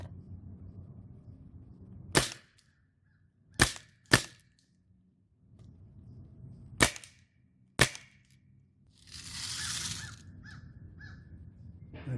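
An Umarex Steel Storm .177 BB submachine gun fires single shots, five sharp, snappy cracks spaced unevenly over several seconds against quiet room noise, with a brief hiss or rustle between shots.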